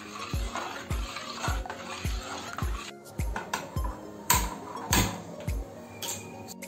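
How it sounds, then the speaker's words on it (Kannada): A spoon stirs milk into jackfruit payasa in a pot, knocking against the pot in a steady rhythm of about a dozen close, clear scrapes and clinks, with no talking. "ಹಾಲು ಎಲ್ಲ ಹಾಕಿ ಚೆನ್ನಾಗಿ ಮಿಕ್ಸ್ ಮಾಡಿದೀನಿ"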